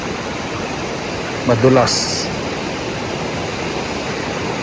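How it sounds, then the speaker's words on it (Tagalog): A steady broadband rush of a flowing water current runs throughout at an even level. A brief spoken word cuts in just past the middle. "May agos na ng tubig."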